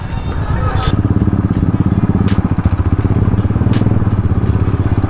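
A Royal Enfield Bullet motorcycle on a ride-share trip, its steady thumping engine pulsing close and loud throughout with a few clicks and clatters on top.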